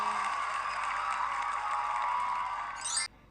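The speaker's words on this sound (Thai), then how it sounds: "ขอเสียงปรบมือให้เรียนหน่อยค่ะ" A steady round of clapping from a group, sustained for about three seconds before stopping abruptly.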